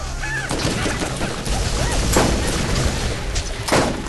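Gunfire in Borderlands aimed at a Badass Raider: several sharp shots and crashing impacts spaced irregularly over a few seconds, loud and punchy against a noisy game backdrop.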